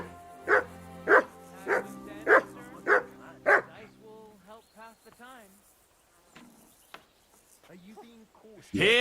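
A dog in the medieval video game Kingdom Come: Deliverance 2 gives about six evenly spaced, loud barks close by, followed by someone speaking and a faint insect-like chirring in the background.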